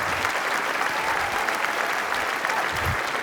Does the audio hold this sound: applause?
yes